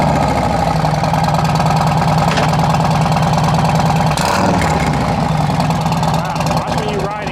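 A 2021 Harley-Davidson Road Glide CVO motorcycle engine runs close by, a loud steady throbbing idle with a brief rev partway through, while people talk over it.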